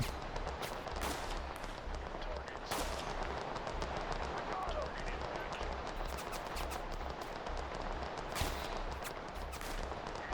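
Automatic gunfire from units in Total Conflict: Resistance rattles in dense, continuous bursts with sharper individual cracks, fairly faint under a constant noisy battle background.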